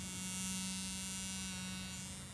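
A cheap sonic electric toothbrush, costing under five dollars, buzzes with a steady, even drone that stays constant throughout with no voices.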